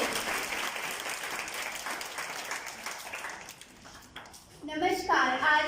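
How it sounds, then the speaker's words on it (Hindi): At a school Independence Day program at JNV Ambala, an audience gives steady, fairly soft applause to welcome a student to the stage; the clapping fades out and a voice begins to speak near the end. "तालियों के साथ उनका स्वागत करें।"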